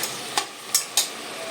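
Mutton pieces dropped into hot oil in a pan, giving a steady soft sizzle with three sharp bursts of crackle or stirring clatter, close and fairly quiet, with no talking.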